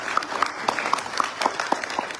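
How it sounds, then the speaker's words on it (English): Sparse applause from an audience at an official welcome program for returning diaspora Liberians at the Executive Mansion in Liberia, with a steady run of separate claps at moderate volume. "Can we give a big hand of applause for the minister?"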